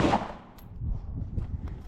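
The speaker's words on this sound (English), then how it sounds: "Start shooting." A single sharp gunshot rings out at the start of a firearms training drill, followed by a decaying rumble and scattered faint knocks.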